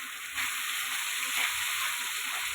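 Katla fish kalia masala sizzles in a pan, a dense steady frying hiss that starts softly and jumps louder after a moment, then stays constant and close.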